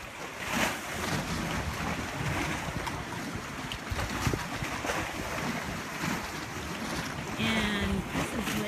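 Waves wash against the rocky shore of Lake Michigan at Cave Point, Wisconsin, a steady surf roar mixed with heavy wind buffeting the microphone, continuous and fairly loud.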